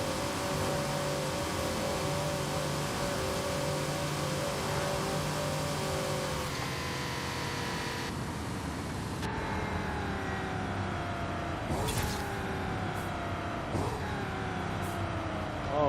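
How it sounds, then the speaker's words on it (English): In Forza Horizon 5, a Ford F-250 Lariat Super Duty truck engine drones steadily, then its pitch drops in several stepped falls as gears shift down, loud and close with no talking. "That downshift sounds really, really good. Sounds massive."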